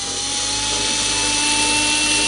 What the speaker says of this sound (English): just use the drill to bring it out